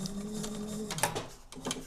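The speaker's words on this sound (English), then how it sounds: "For all pockets that I'm just stitching like this, I stitch them on the machine" Sewing machine with an LR leather needle stitching a pocket on a traditional bifold leather wallet, a brief close mechanical whir with a few sharp knocks.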